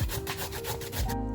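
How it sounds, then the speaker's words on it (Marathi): Cucumber rubbed against a metal grater in quick, steady back-and-forth strokes, a close rasping scrape repeating about every fifth of a second without pause. "आता काकडी मी किसून घेते."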